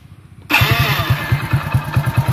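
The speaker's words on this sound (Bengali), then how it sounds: "দেখুন আমি বাইকটির সাউন্ড দেখাচ্ছি" A second-hand Hero Honda Splendor Plus 100cc motorcycle starts abruptly after a brief quiet moment, then settles into a loud, close, steady idle with a regular, rapid thumping beat.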